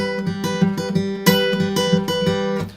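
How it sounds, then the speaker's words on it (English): Fingerpicked acoustic guitar plays a steady rolling pattern of plucked notes, clear and close with no voices. "plucking in a kind of a finger picking technique in the right hand"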